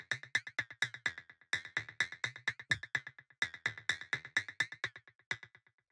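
Short, bright plucky minimal tech house synth notes repeat in a quick, busy rhythmic pattern, each one a clipped plonk that decays fast, playing alone without any talk.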